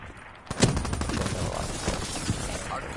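Weevil light machine gun in a video game letting off a sustained automatic burst, rapid loud shots running back to back and nearly continuous after a quiet start, with no voices.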